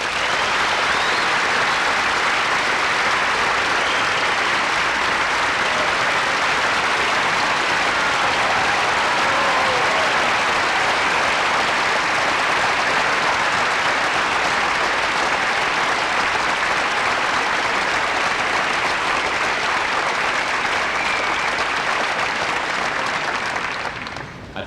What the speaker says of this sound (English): for you to applaud your parents for what they have given you